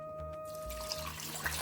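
Water is poured into a cooking pot while making Karnataka-style bisi bele bath, a soft splashing trickle that begins partway through and runs on with small bursts near the end.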